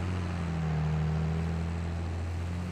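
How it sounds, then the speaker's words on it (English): A tractor engine in the video game Farming Simulator 22 drones with a steady low hum and rumble, held evenly throughout with no talk over it. "This tractor sounds nice though."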